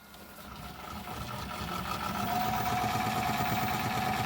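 A homemade DIY electric motor runs forward at about 300 RPM under potentiometer speed control, giving a steady mechanical hum with a rhythmic pulsing whir that grows slightly louder, close by and without talk.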